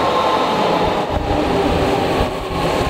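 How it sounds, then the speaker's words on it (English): A JR train at a station in Japan on the way to Osaka, a loud, steady rumbling roar of rail noise that fills the whole stretch without letting up, with no voices. "Now we're waiting for the JR train to Osaka."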